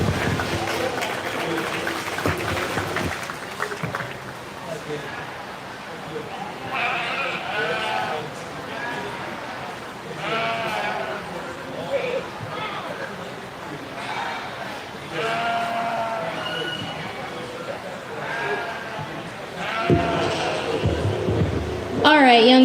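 Sheep bleat at a 4-H and FFA county fair sheep show, several wavering calls scattered across a noisy hall with crowd murmur, while a nearby voice talks over much of it.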